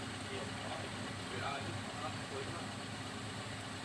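A Daihatsu Xenia 1000 cc engine idling before tuning, a steady, even mid-low hum held close with no change in pitch.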